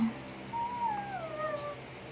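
A pet cat named Mingming gives one drawn-out, wavering meow near a house under construction, fairly close and clear over a low background hum.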